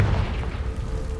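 A fiery Confringo spell blast in the Hogwarts Legacy video game, a single deep booming explosion with a rumbling low tail that fills the short moment.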